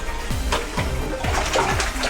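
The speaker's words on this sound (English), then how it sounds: "Pull it out, run the water through it." Synthetic wig hair dunked and pulled from a bucket of water, giving four evenly spaced watery sloshes and drips close by, with no talking.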